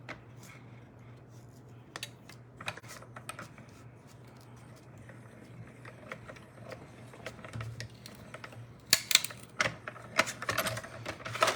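A die-cutting machine cuts leaf shapes from paper for a Mother's Day card, heard as faint clicks and scraping mechanical taps over a low steady hum, growing busier and sharper near the end.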